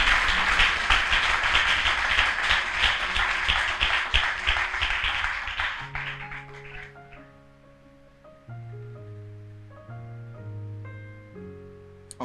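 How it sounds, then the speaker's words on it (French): A church congregation claps for Jesus at a French-English service, a dense, steady round of clapping lasting several seconds before it fades into sustained keyboard music. "Clap for the Lord Jesus."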